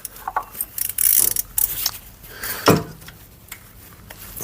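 Ratcheting clicks in quick bursts as a socket wrench with an E14 socket works at the alternator bolts on a 2005 Vauxhall Corsa 1.2, with metallic taps and clanks, close and moderately loud.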